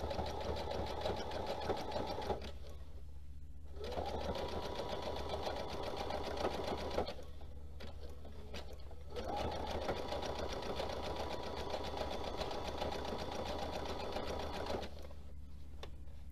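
A sewing machine stitching fabric strips for a jelly roll rail fence rug, running in long steady bursts of rapid mechanical whirring with two short pauses, close and alone.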